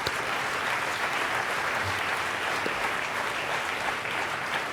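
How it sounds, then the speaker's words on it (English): Sustained, dense audience applause fills the hall after an inaugural address at a formal diplomatic conference, steady and loud throughout with no speech over it. "please join me in applauding a wonderful inaugural speech"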